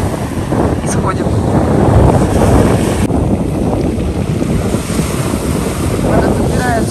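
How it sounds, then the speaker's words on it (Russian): Waves break and wash up the shingle beach at Lazarevskoye on the Black Sea as the water creeps higher. The surf churns continuously and loudly, with wind rumbling across the microphone. "нужно идти, пока совсем волны не будут большие."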